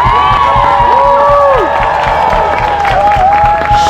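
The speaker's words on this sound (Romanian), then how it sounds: "Vă rog din toată inima, de aici, de aproape, de departe, aplauze pentru voluntarii noștri" A large festival crowd claps, cheers and whoops for volunteers, a loud continuous roar of applause with shouts rising above it, while brass music from a fanfare band plays through.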